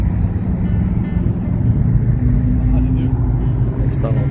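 Cars cross a street in downtown Manhattan, a dense low traffic rumble with engine hum filling the short stretch, steady and fairly close, with city noise around.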